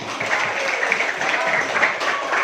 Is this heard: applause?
yes